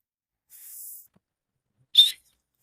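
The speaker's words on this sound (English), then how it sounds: "it looks like a whistle on the end" A short, airy whistle built into a spork toots once, thin and high, after a brief faint hiss; otherwise quiet.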